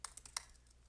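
Several quick keystrokes on a computer keyboard, crisp and close, clustered in the first half then fading to quiet room tone.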